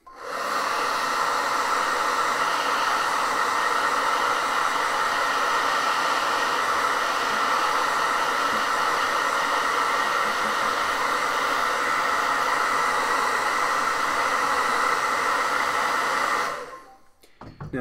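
A hair dryer blows on a drawing to dry it and gives a loud, steady whooshing roar that runs almost nonstop before it is switched off near the end.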